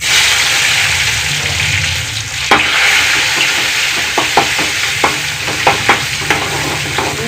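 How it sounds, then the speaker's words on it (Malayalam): Garlic sizzles loudly in hot oil in a pan while a spoon stirs it, with scraping knocks landing in an irregular rhythm over the constant crackle, close up, for a curry. "ഇത് വെളുത്തുള്ളി ഇട്ട് കൊടുക്കട്ടെ കേട്ടോ."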